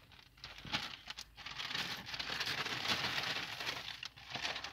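The plastic packaging bag around a knife crinkles and rustles up close as it is handled, giving steady crackling with a few sharper crinkles, quiet and with no talking.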